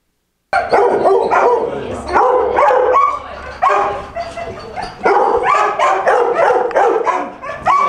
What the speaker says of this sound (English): Here are the sights and sounds of the dogs waiting for a forever home.